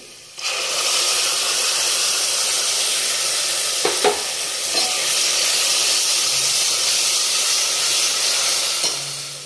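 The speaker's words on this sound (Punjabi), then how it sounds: "ਹੁਣ ਆਪਾਂ ਇਹਦੇ ਵਿੱਚ ਟਮਾਟਰ ਦੀ ਪਿਊਰੀ ਜਿਹੜੀ ਤਿਆਰ ਕੀਤੀ ਸੀ ਆਪਾਂ ਨੇ ਉਹ ਪਾ ਦਾਂਗੇ" Tomato puree hits hot oil in a pan and sizzles loudly, a steady close hiss with a few soft stirring knocks, lasting nearly the whole time.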